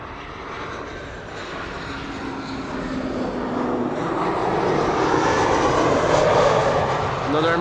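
A German Airways Embraer 190 flying for KLM arrives at Amsterdam Schiphol from Stavanger, its jet roar building steadily and growing louder as it nears, with a voice talking over it.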